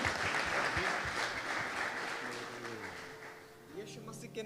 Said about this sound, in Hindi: आइए जोरदार तालियां बजा दीजिए खुदावन के जलाल